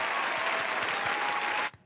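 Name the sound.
applause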